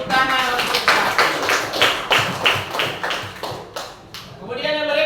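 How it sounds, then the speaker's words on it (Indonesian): Students clap in a fifth-grade classroom, producing a rhythmic burst of about a dozen close, fairly loud claps in unison, with voices heard before and after. "tepuk tangan untuk satu"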